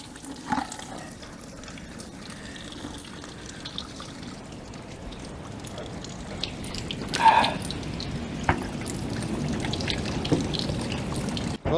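Cola used as a coolant flush pours and trickles out of the bottom hose of a Daewoo Matiz cooling system, a steady close splashing stream with a few louder drips and gurgles, no voices.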